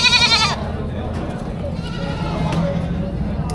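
Goats bleat briefly at the start at a livestock auction in Padre Garcia, Batangas, then give way to a steady murmur of crowd chatter and background noise.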